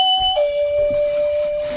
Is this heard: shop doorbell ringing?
yes